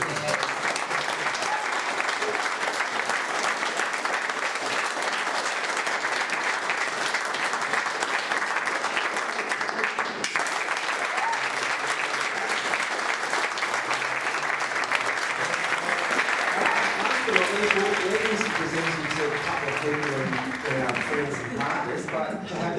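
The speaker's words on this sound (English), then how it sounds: "get everybody to give them another round of applause" Sustained room applause at a rainforest survey presentation, a dense steady wash of clapping that holds for over twenty seconds, with voices talking in the room near the end.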